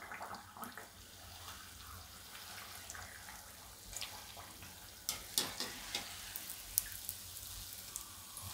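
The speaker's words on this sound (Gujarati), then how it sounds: "બે સાઈડ આપણે એકદમ સરસ ગોલ્ડન થાય એવા તળવાના." Pakwan deep-fries in hot oil until golden on both sides, a soft steady sizzle with scattered crackles and pops, quiet and close, with no talk.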